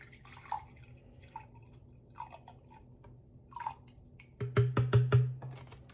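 White vinegar poured into a cooking pot for pickled sausage brine, scattered soft drips at first, then a quick burst of louder splashing glugs near the end.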